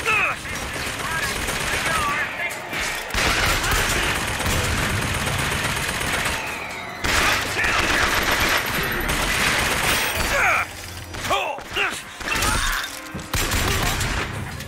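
Rapid pistol fire in Bioshock Infinite cracks out in dense, repeated bursts, close and loud, mixed with game combat noise and someone talking over much of it.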